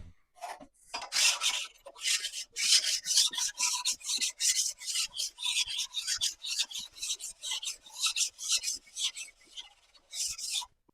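Metal file rubbing back and forth on steel tubing for off-road rock sliders: loud, close, rhythmic rasping strokes in a steady series with short pauses between them, no voices.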